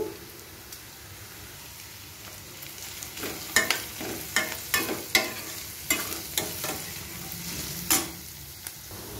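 Onions and grated carrot fry in a pan for semiya upma, with a steady soft sizzle broken by a run of sharp scraping stirs from a spoon, close and fairly quiet, with no voices.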